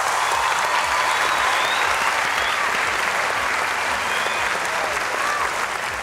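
A television talent show studio audience in Turkey claps steadily and densely for several seconds, a continuous wash of applause with no break.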